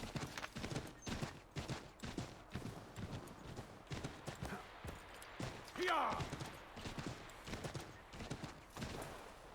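Horse hooves clip-clopping in the video game Assassin's Creed III: a steady, even rhythm of hoofbeats at moderate volume, with a brief whinny-like cry midway and faint voices in the background.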